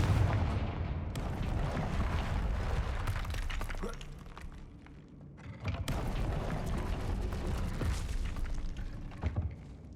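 Confringo blasting spells in Hogwarts Legacy go off as booming explosions with shattering debris, two heavy blasts a few seconds apart over a rumbling game soundscape, loud and close.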